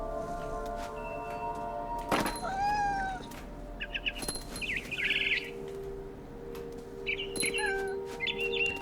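Cat meowing and a frightened bird chirping and squawking in the video game What Remains of Edith Finch, with several drawn-out meows and bursts of high, sharp bird calls over a low game ambience.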